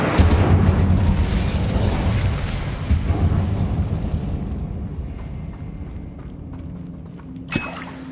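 An Incendio fire spell cast in Hogwarts Legacy bursts out as a loud roaring whoosh that slowly fades over several seconds, followed by a faint thud near the end.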